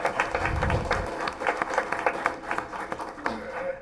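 An audience at a school board meeting claps with a scattered, moderate round of applause lasting a few seconds and thinning toward the end.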